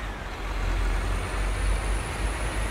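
Heavy bus and truck traffic in the Bus Simulator India video game, with a steady low diesel engine rumble that idles continuously and a faint high whine running above it.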